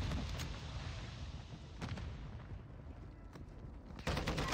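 Gunfire in Warzone 2.0 amid rumbling battle noise, a few sharp distant-sounding shots and cracks punctuating a constant low roar, with a louder burst near the end.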